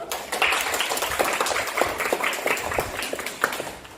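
A classroom of students claps for a group that has just finished presenting, with steady, fairly close hand-clapping that holds for several seconds with little talk over it.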